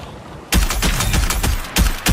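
Gunshots in the shooter Marathon crack out loud and close: a sustained rapid volley followed by a few separate sharp bursts, with no talking.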